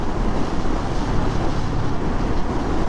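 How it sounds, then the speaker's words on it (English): Cold wind roars across a motorcycle rider's microphone on a Sunday ride, a dense, unbroken buffeting rush that is loud and constant, with no engine or voices standing out. "that's enough cold wind blast in the face"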